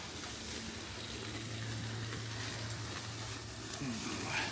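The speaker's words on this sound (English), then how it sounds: "A couple of minutes just to sear it off." Porterhouse steak searing over a barbecue grill during a reverse sear, giving a steady, low crackling sizzle that runs unbroken at moderate level with no voices.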